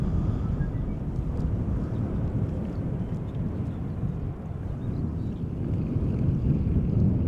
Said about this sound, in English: Another A320 Neo from EasyJet, this one arriving from Manchester.